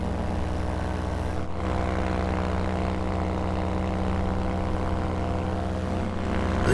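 A steady, droning paramotor engine with a propeller buzz runs continuously and loudly throughout in flight, close by, with wind rush around it.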